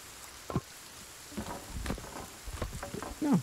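Rain falls steadily in the survival game Sons of the Forest, a soft, even hiss around a built shelter with a few faint scattered knocks and thumps.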